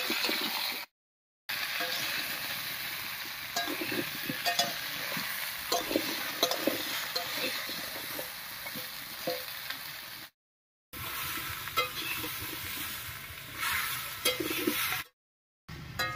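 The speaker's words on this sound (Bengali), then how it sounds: "ফোড়নের উপরে আমটা দিয়ে 2-3 মিনিট রান্না করে নিয়েছি, একটু ভাজা ভাজা মতো হয়ে গেছে।" Continuous sizzling and crackling of raw mango pieces frying over tempered spices in a pan for pickle, with occasional stirring scrapes and brief silent gaps.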